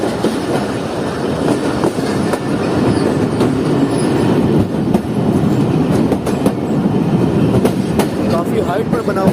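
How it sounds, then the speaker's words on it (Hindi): A passenger train in Pakistan rumbles across a high bridge, with a loud, steady roar of wheels, rhythmic clacking over rail joints and occasional squeals, heard from inside the carriage. "हारू ब्रिज को इस वक्त क्रॉस कर रही है हमारी ट्रेन।"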